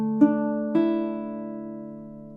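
Two fingerpicked attacks on a baritone ukulele, a quick soft pluck followed by a fuller chord that sustains and fades gently, heard close with no voices.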